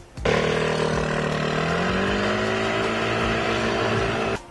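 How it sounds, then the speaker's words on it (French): A Vespa GTS 300 scooter engine accelerates from a start, a steady close droning roar whose pitch climbs smoothly and then holds for about four seconds before cutting off. "Dès le premier démarrage, on reste bluffé par l'accélération de cette Vespa."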